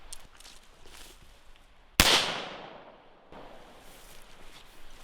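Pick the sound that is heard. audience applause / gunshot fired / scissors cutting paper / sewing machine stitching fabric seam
gunshot fired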